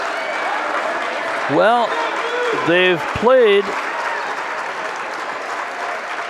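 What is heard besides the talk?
St. Croix Falls parents cheering at a girls' basketball game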